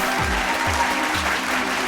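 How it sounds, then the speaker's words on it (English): A studio audience gives a short, steady round of applause for guests on a gaming talk show, with a low sliding tone repeating beneath the clapping. "How about a much belayed round of applause for these guys?"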